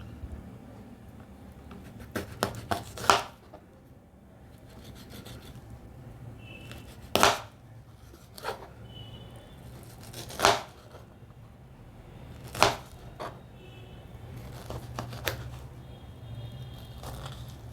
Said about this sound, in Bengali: এবার কাটছি পিচ ফল